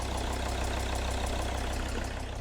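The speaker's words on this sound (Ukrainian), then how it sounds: "чути звук, скоріш за все, це є проблема з одною форсункою" A car engine idles steadily, with a quick, regular ticking tapping from a faulty fuel injector through the running noise, up close and continuous.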